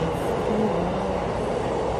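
A train at a station in Japan gives a steady, loud rumble of rolling wheels and running equipment that holds evenly from start to finish, with no voices.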